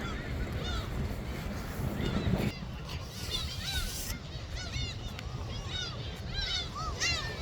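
Seabirds honk repeatedly in a busy flock at a Korean seashore, the calls near and overlapping above a constant wash of surf and wind.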